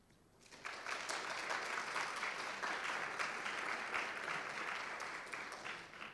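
An audience at a sustainable landscapes forum breaking into applause, rising quickly after a quiet start into sustained, dense clapping that holds steady and tapers slightly at the end.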